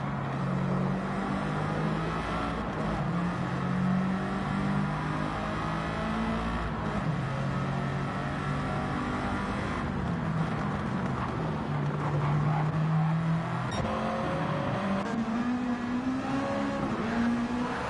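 Group 2 race cars in Gran Turismo 7 at Daytona roar down the straightaway, their engine notes rising and falling in pitch as several cars close in and pass, loud and continuous throughout.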